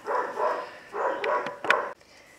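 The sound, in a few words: dog barking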